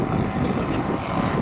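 A large-scale model Lancaster bomber flies at the Woodspring Wings model show, its propeller engines giving off a loud, close, steady throbbing drone with no break.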